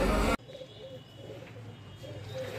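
Soft pigeon coos recur faintly over a low, steady background hum after a brief loud burst at the start, pigeons that traveled by train from Bhusawal to Bahraich.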